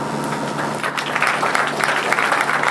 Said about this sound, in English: Yeah, I'll keep clapping.